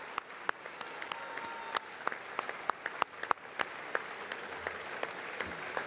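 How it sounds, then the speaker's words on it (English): Steady applause from a chamber audience during a presidential address to a joint session of Congress, many claps blending into a continuous patter with a few sharper claps standing out. "the Republicans are standing and applauding"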